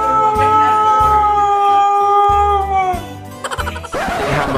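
A Siberian Husky gives long, drawn-out howls that slide downward in pitch, loud and close, over rhythmic background music.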